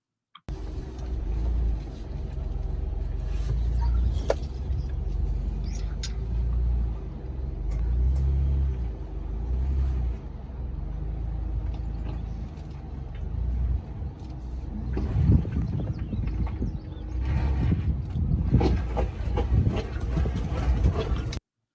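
A Ford Bronco grinds up a rocky off-road hill, its engine rumbling low and steady, then bursts of heavier thumping and bouncing as the tires lose traction near the end.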